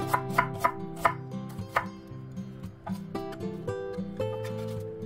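A knife slices half an onion into thin strips on a cutting board, with a series of sharp, close chops in an uneven rhythm against a quiet background with faint tonal music.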